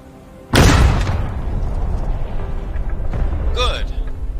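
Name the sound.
artillery cannon firing in the video game War of Rights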